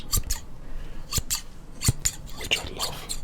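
Heavy barbershop scissors snip through cloth in a loose series of crisp, close metallic cuts, some single and some in quick pairs, alone against a quiet background.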